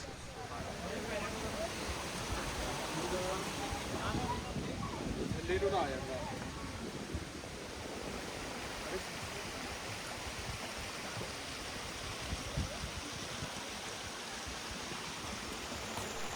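A small stream runs beside a waterfall trail in Himachal, carrying little water in winter. It makes a steady, close, even rush of flowing water throughout, with faint voices occasionally audible beneath it.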